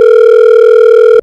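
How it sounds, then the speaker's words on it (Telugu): A steady, loud telephone tone sounds without a break for about a second before cutting off abruptly, heard while calling a relative on the phone in a home setting. "సరే, ఒకసారి ఫోన్ చేద్దాం."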